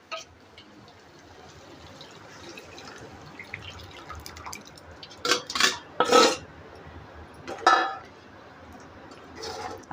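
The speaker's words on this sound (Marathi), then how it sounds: "आता ही डाळ आपण शिजून घेतलेली आहे ना ती त्याच्यात टाकू" Cooked dal poured from a vessel into a pan of spiced oil while making South Indian sambar, heard as a few wet splashing and clattering bursts in the second half over a quiet kitchen background.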